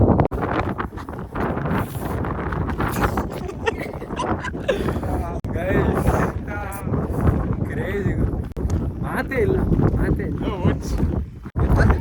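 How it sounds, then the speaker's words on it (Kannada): Strong wind buffets the microphone with continuous rumbling gusts, while a person talks throughout underneath. "ಇಲ್ಲಿ ಸಣ್ಣ ಗಾಳಿ ಬೇರೆ ಬೀಸೈತೆ"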